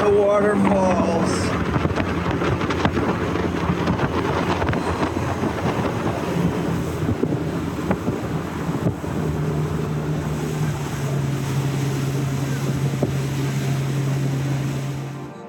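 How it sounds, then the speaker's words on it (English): A motorboat ride near Lake Oswego, Oregon, with a steady engine drone and rushing wind and water that continue throughout, while voices are faintly heard. "We're going on a boat ride."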